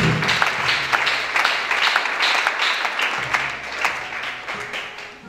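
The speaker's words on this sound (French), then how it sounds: "Acclamez s'il vous plaît, acclamez" A church congregation applauds steadily, with dense clapping close by for a few seconds and a sustained murmur of voices beneath it.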